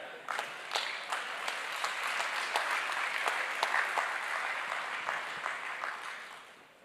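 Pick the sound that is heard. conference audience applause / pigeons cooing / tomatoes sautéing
conference audience applause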